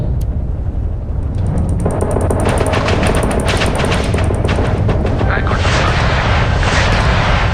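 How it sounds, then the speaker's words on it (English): Spaceship weapons in Starfield fire in rapid bursts of rattling shots and booms, loud and dense throughout, with voices talking over the barrage. "The ship's weapons are powering up."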